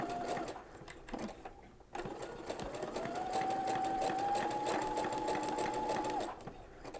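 A sewing machine fitted with a fringe looper foot stitches curves, its motor whirring steadily and close by, with a short pause near the start before the hum picks up again and runs on without interruption.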